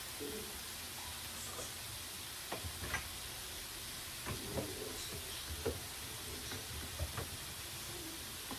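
Food sizzles steadily in a single pan holding steak, potatoes and broccoli with red pepper flakes, while a utensil scrapes and taps through it in scattered clicks that rise above the constant hiss.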